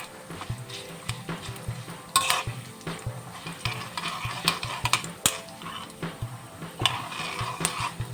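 Cashew nuts fry in oil in a pan for an aloe vera pickle, giving a steady close sizzle broken by frequent scraping and stirring clicks of a spoon against the pan.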